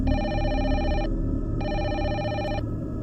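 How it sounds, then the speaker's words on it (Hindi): A telephone rings at a hotel reception desk late at night: two long electronic trilling rings separated by a short gap, clear and steady over a low background hum. "रिसेप्शन के टेलीकॉम में एक फ़ोन आता है"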